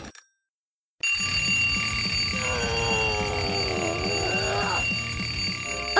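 An alarm clock rings in a cartoon, a steady, loud jangling bell that starts after a second of silence and continues for about five seconds, with a wavering whine layered over it partway through.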